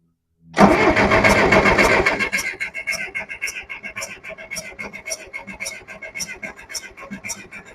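A Case 430 tractor engine cranks and catches, roaring loud and close for a couple of seconds, then settles into a rough, pulsing idle that continues to the end.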